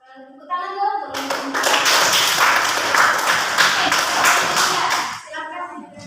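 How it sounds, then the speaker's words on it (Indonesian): Classroom applause during a microteaching lesson, a burst of many hands clapping that starts abruptly, holds for about four seconds and then stops, with a voice speaking briefly before and after. "Tepuk tangan dulu untuk"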